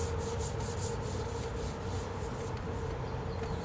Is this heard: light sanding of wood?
yes